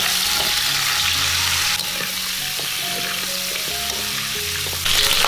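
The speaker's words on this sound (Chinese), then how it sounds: "接着来重新起锅热油，把猪脚放进来炒香" Pork trotters stir-frying in hot oil in a wok, a steady loud sizzle with scraping spatula strokes and brief clinks, swelling slightly at the end.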